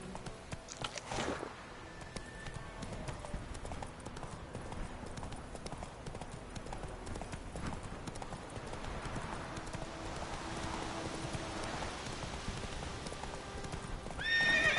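Horse hooves clip-clop steadily for the whole stretch, with occasional neighing and whinnying, from a horse ridden in the video game The Witcher 3: Wild Hunt.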